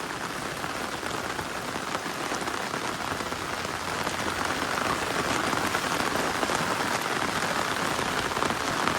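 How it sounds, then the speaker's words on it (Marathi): Heavy monsoon rain in the Konkan pours steadily beside a river, a dense, even roar of drops on surfaces that stays loud and unbroken throughout. "परत पाऊस सुरू झालो."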